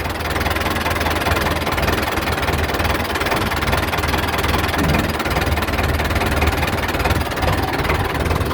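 A 6600 vehicle idling steadily during a test drive, its engine giving a continuous loud low rumble and vibration without pauses or speech.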